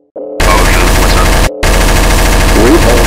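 Rapid machine-gun fire rattles loudly in a GoAnimate cartoon, a sustained burst broken by a brief pause before the automatic gunfire resumes just as loud.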